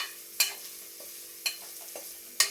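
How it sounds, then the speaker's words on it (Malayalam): Small shallots and onions sautéing in a pan for a Kerala-style chicken curry, a soft steady sizzle broken by three sharp scraping stirs of a spatula spaced about a second apart. "ചെറിയ ഉള്ളി സവാളയും കൂടെ ഇട്ട് കൊടുത്ത് വഴറ്റാം."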